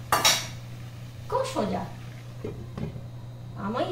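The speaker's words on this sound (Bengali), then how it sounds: "এটার মধ্যে দিয়ে ঢাকা দিয়ে দেবো ব্যাস এটা ফুটতে থাকে" A metal lid set onto a cooking pot of marinated chicken: a sharp clank at the start and softer clinks of metal on metal after it, close by, with a voice speaking alongside.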